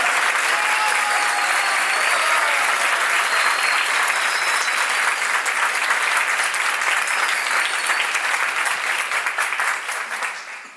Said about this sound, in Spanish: Nos regalen un aplauso, por favor.